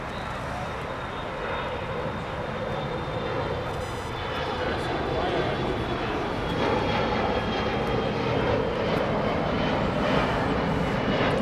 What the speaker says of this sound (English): I think we've got an Alaska Horizon plane taking off for Santa Rosa, California.